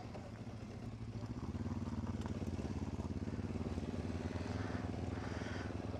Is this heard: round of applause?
no